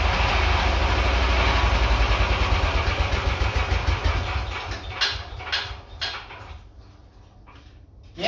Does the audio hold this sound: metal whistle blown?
no